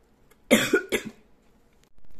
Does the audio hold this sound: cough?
yes